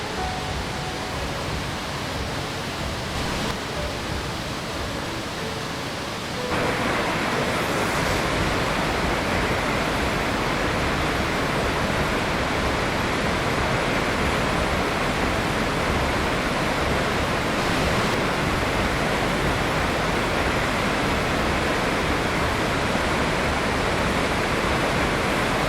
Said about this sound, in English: The giant waterfall cascades down, mud and earth swirl.